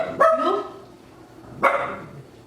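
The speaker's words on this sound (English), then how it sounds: "That's my dog, guys." A dog barks twice, close by and fairly loud, with a short pause between the two barks.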